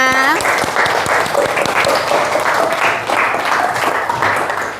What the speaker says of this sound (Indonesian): Oke, terima kasih anak-anak, tepuk tangan semuanya.